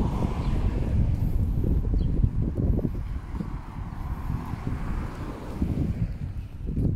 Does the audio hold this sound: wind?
yes